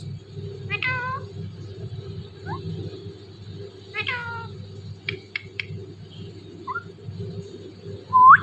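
A talking parrot imitates a cat's meow in several short, clear calls separated by pauses, close and fairly loud against a low background hum.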